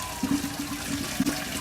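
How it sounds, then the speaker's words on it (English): Cooked noodles being drained from a pot through a drainer into a sink, a steady rush of pouring water and splashing with a couple of louder gushes, close and without speech. "So we're just draining our noodles."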